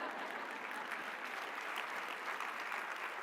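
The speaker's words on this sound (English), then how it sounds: "I'll take a clap for that" Dense audience applause at a live keynote talk, a steady wash of many hands clapping at even loudness throughout, with no voices standing out.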